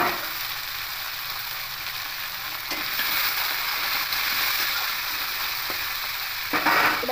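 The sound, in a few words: potatoes and greens stalks frying in pan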